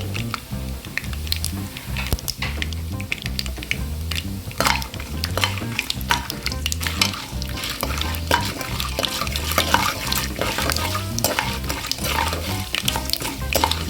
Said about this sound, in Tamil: வறுக்காத பச்சைக்கடலை கொஞ்சம் எண்ணெயில் பொரிட்டு